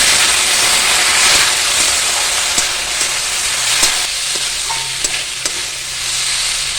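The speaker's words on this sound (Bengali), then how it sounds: "দু চামচের মতো আদা রসুন পেস্ট করে রেখে দিয়েছিলাম সেটা দিয়ে দিচ্ছি আর একটু নাড়বো" Ginger garlic paste hisses loudly and continuously in a hot pan, with small scraping ticks from stirring scattered through the steady, close sizzle.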